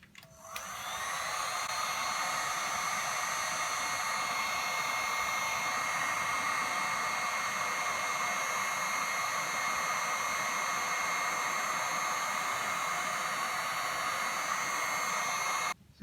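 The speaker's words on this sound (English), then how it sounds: "we just heat it with the heat gun" A heat gun blows a steady, close whooshing hum with a faint high whine while warming an embellishment on a card, switching on at the start and running unchanged for about fifteen seconds before cutting off.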